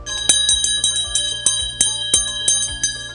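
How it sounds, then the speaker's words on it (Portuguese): An antique 1890 school bell, once rung to call children to class, clangs in a fast, steady series of bright metallic strikes, about ten in three seconds, close and ringing with a long shimmer. "ela vai abrir uma exceção para tocar o sino de como era para chamar a criançada para a escola"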